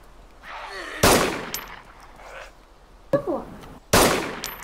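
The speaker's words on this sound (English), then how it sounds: "Do you mind if I'm just gonna shoot." Gunshots in the DayZ Standalone video game during a zombie encounter, three sharp loud reports spaced a couple of seconds apart, with faint voices and game sounds between them.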